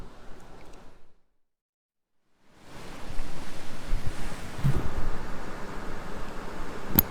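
Ocean waves near the shore across the street from a turtle centre, a rushing broadband wash that cuts out briefly, then returns louder and steadier with wind buffeting the microphone.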